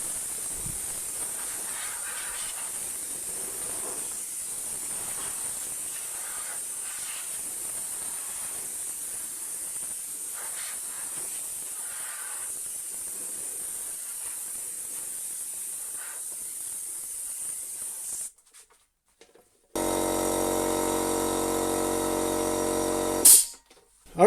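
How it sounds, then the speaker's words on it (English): An air compressor blasts dust off a crusty Amstrad CPC 464 keyboard: a steady, close hiss of compressed air runs for about eighteen seconds, then, after a short break, a louder, harsher burst follows. "I'm going to have to fire up ye oldie air compressor for this one"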